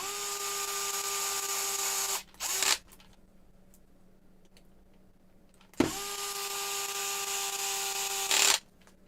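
A small power driver whirs in two short bursts, each a steady tonal spin ending with a click, while screws are driven into an Axial SMT10 RC truck; quiet room tone fills the gap between them.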